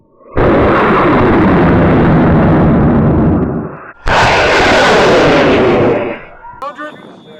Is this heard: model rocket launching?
yes